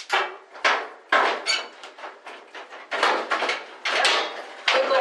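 Metal top panel of a 14-year-old GE electric dryer, model PVXR353EB0WW, wiggled loose by hand: a close, irregular series of scraping, clattering metallic rattles and creaks in short repeated bursts.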